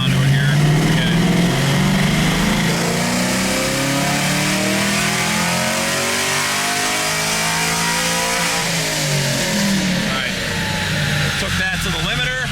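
A 5th-generation Chevrolet Camaro 1LE engine, set up with a 7,000 rpm limiter, revs hard and loud up to the limiter, close by and under steady driving noise, with some talk over the engine.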